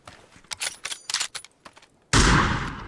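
Rapid gunfire in a video game shooter: a burst of sharp shots through the first two seconds, then one loud, broad blast that trails off, with no talk.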